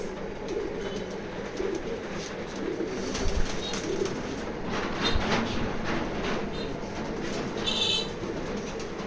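Racing pigeons in a loft coo softly in the background, their low murmurs mixed with faint rustling and ambient noise, at a moderate distance with no speech.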